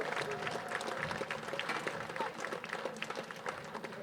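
Applause from a baseball crowd at an NECBL summer-league game, honoring people affected by cancer; steady dense clapping across the stands, fairly distant and sustained, with some crowd noise mixed in.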